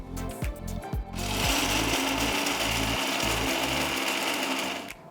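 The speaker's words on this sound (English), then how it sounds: "So we can grind these fox nuts in batches." A mixer grinder grinds roasted makhana (fox nuts), giving a few short pulsed bursts and then a loud, continuous, close whirring drone that cuts off at the end.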